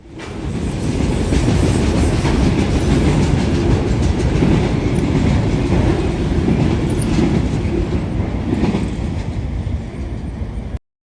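A heavy freight train rumbles past nearby, a steady loud roar of wheels and cars with faint rhythmic clatter, continuing throughout before cutting off.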